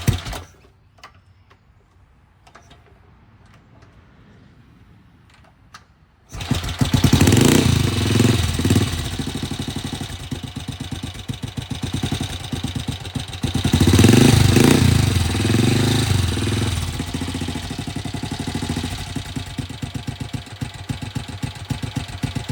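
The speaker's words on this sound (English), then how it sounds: "There's the fire up on cold start." A BSA Victor Desert Sled motorcycle engine fires up on a cold kick start after quiet handling noises, then settles into a loud, steady, throbbing idle close by that swells briefly midway, with no talk over it.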